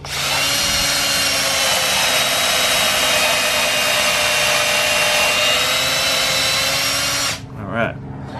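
A power drill whines steadily and loudly for several seconds while boring into a eucalyptus wood bowl blank, then stops, followed by a brief clunk.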